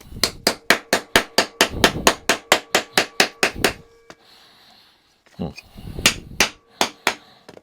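A hammer striking a metal Freddy Krueger glove build in a garage, a fast run of about fifteen loud, sharp close blows, a brief pause with faint breathing, then several more spaced strikes.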